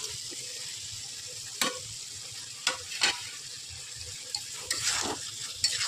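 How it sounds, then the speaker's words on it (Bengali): Fried chickpeas, potato and pumpkin being stirred in a wok, a soft continuous sizzle punctuated by several sharp scraping strokes of the spoon against the pan. "সব কিছু দিয়ে নাড়াচাড়া করে নিলাম।"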